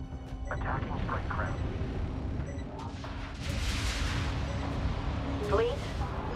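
Weapons fire from ships attacking strike craft in the space strategy game Homeworld 3, with dense rumbling bursts and booms throughout, joined by radio-style voice chatter over the battle.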